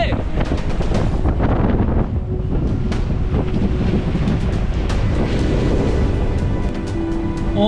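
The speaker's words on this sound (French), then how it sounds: "C'est reparti, il y a du vent." Strong wind roaring over a sailboat beating upwind on a solo voyage toward the Arctic Circle, a loud, steady buffeting rush across the microphone with water sloshing underneath throughout.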